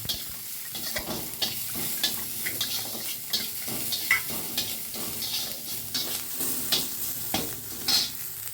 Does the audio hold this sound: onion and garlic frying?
yes